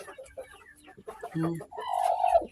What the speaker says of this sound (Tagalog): Ito ang buhan natin, guys, ha? Buhan.